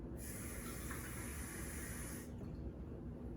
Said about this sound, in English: Let's put 1 more half a cup of water in it.